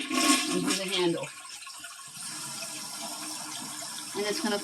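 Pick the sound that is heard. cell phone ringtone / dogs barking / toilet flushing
toilet flushing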